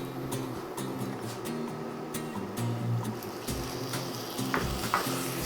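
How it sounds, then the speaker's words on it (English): Soy sauce and sweetener sizzling in a pan while being stirred during cooking of katsu-style tofu, a soft steady hiss with light scraping and clicking stirs, fairly quiet and close, no talk. "Stir that around."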